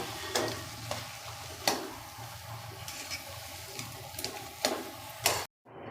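Dabeli masala stirred and fried in a pan, a low constant sizzle broken by several sharp scraping clacks of the spoon against the pan at irregular intervals, close and moderately loud, cutting off abruptly at the end.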